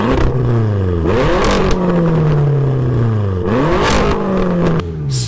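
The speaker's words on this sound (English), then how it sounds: "sounds nice when you're revving the hell out of it, or when you're driving under load" A high-performance car engine, either an 800 bhp RS6 or a 700 bhp M6, revs loudly and close up, with rising and falling pitch sweeps across repeated throttle blips and gear changes.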